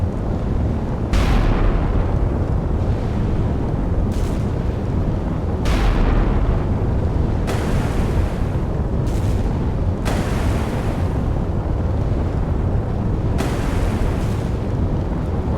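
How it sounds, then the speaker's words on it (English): Big guns of a warship firing in the naval combat game Sea Power, heavy booming blasts arriving every second or two over a constant rumbling roar, loud and close with no talking. "And there go the big guns."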